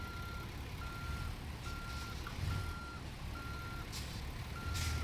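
A truck in American Truck Simulator sounds its reversing alarm, an evenly spaced series of about six beeps over the low hum of an idling engine.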